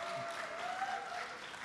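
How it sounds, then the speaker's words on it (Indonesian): Brief, faint applause from an audience at a live painting and AI event, a soft wash of clapping with a tonal hum running under it. "Tepuk tangan untuk Mo Sidik."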